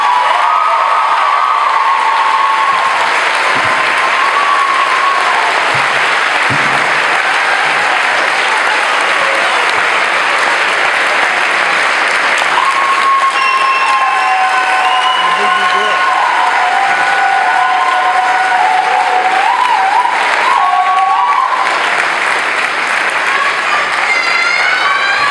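Sustained applause from a crowd honoring an award winner at a university variety show awards ceremony, loud and steady throughout with some cheering mixed in.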